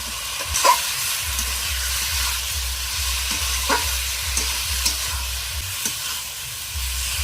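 Fried potatoes go into a pan of vegetarian papad curry. A steady sizzle runs throughout, with repeated rhythmic scraping strokes of stirring close by and a few sharper clinks of the utensil against the pan.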